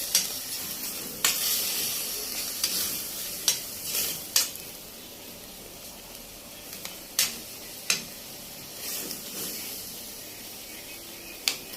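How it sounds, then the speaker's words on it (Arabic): Red and green peppers stirred and frying in a pan with ground meat, a soft steady sizzle broken by sharp scraping clicks of the spoon every second or so. "هبتدي انزل عليها بالفلفل الاحمر والفلفل الاخضر واقلب"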